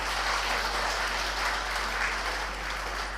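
Audience clapping at a political speech, a dense, even wash of applause from a large crowd held steady throughout over a constant low hum.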